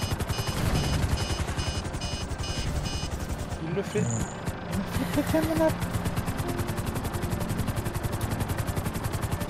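A helicopter flies in the video game GTA V, its steady rotor chop running throughout alongside bursts of in-game gunfire, with someone talking over it.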